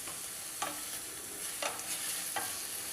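Manathakkali greens sautéing in oil in a pan, a soft steady sizzle with a few light stirring scrapes at intervals, close and fairly quiet, no talking.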